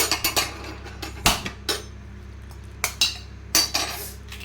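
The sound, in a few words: egg being beaten for Yippee egg noodles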